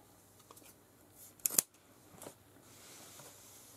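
Scissors snip through fabric pieces being cut for a bag: a few light clicks, then a sharper double snip in the middle and a softer cut after it, close and quiet, with no talking.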